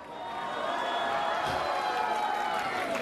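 Applause and cheering from a studio audience at a Pakistani TV show, a steady wash of clapping and crowd noise holding at moderate level throughout.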